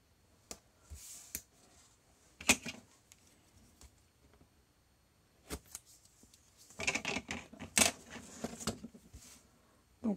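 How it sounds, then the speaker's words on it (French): Adhesive tape strips are peeled and pressed onto a scrapbook album page: quiet, sparse crackles and sticky rips in short bursts, with a denser cluster of handling noises toward the end. "Alors je vais y mettre de l'adhésif également."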